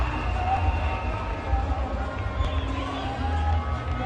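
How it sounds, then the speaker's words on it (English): A cricket crowd applauds a boundary with a low, steady rumble of clapping and murmuring that runs the whole way through, with a faint commentary voice beneath it. "Applause for him, a good effort."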